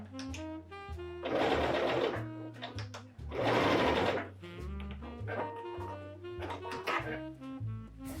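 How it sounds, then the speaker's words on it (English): A sewing machine stitching fabric along a fold line for a DIY cut-out top, with bursts of fast rhythmic whirring punctuated by pauses and softer mechanical clicks, close up. "sew over those markings"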